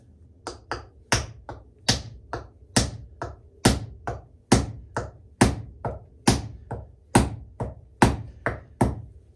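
Hatchet head hammered down hard onto its wooden handle, a steady run of about twenty sharp, loud wooden knocks spaced evenly, each ringing briefly, with no talk.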